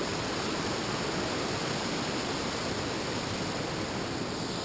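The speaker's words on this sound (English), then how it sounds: "Beautiful river." Rushing river water at a slippery spot in the backwoods, a loud, steady, unbroken roar close by with no voices.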